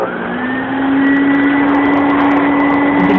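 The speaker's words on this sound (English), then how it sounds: "Let me show you that the scrub brush is on." A Dirt Devil Spot Scrubber runs with its scrub brush switched on, giving a loud, steady motor whine and airy rush that swells slightly after the first second and holds alone.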